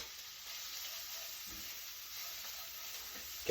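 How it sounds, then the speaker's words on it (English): Finely chopped onions sizzle steadily in a hot oiled pan for a Spanish tortilla, a continuous close hiss and crackle with no talk, steady throughout. "Take about a cup of finely chopped onions right into the hot pan."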